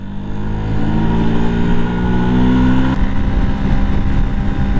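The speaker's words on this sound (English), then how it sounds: "I'm just out for a little spin on the MT" Yamaha MT motorcycle ridden on a dry March morning road toward a wind farm, a loud steady engine drone with a rising rev and a gear change, mixed with wind rush.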